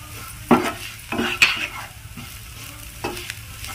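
Spoon scraping and stirring an onion and spice mixture with garam masala in a frying pan, a few distinct scrapes over a soft sizzle, close and alone.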